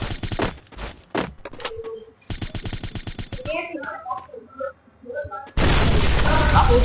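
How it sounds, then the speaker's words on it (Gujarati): A bomb explodes in the Free Fire video game amid bursts of gunfire and booming blasts, ending in a loud, sustained roar of noise, while players talk over the action. "એ બોમ્બ આવ્યો"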